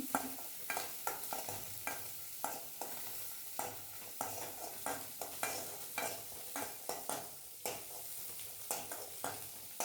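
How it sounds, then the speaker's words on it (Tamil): Raw mango and small shallots are lightly sautéed for a Kerala-style mango chammanthi, with a soft constant sizzle. A spatula scrapes the pan in a regular rhythm of sharp strokes roughly every half second, close and fairly quiet. "நான் லைட்டாக வதக்கிறேன்."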